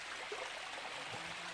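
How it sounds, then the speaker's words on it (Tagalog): Steady rushing and splashing of running water from a small waterfall on rural farmland, continuous and close, with no voices over it. "Running water po ito."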